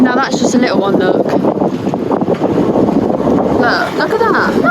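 Wind roars steadily across the microphone as a sailboat rocks in a storm off a rocky lee shore and water sloshes against the hull, with people talking over the noise throughout.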